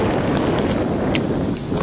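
Wind of around 40 to 60 km/h blows through trees and branches on a sunny ridge, a continuous loud rushing gust with heavy buffeting on the microphone.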